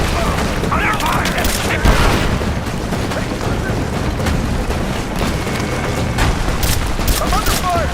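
Dense gunfire and booming explosions fill a Rise of the Tomb Raider firefight, with rapid bursts crackling continuously under shouted voices.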